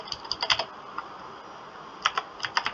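Bursts of keystrokes on a computer keyboard, a quick cluster of clicks, a lone tap, a pause, then another rapid run of typing, close and fairly quiet with no voices.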